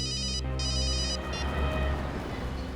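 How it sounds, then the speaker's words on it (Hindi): A telephone rings with two rapid trilling bursts, loud and near, then a single clipped ring, all over a low steady hum as a call is placed. "मैं जरा दया को फोन करता हूँ।"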